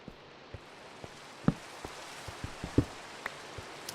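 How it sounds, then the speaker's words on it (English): Light rain in Minecraft patters faintly with scattered drops ticking at irregular intervals over a soft, quiet background hiss. "Still raining."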